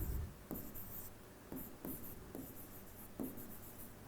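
Chalk or marker writing on a board during a chemistry lesson, a series of distinct scratchy strokes and taps, close and fairly quiet, with short pauses between marks and no talk over them.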